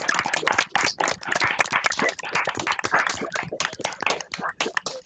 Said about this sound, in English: Could you switch on the mics and clap hands to acknowledge your support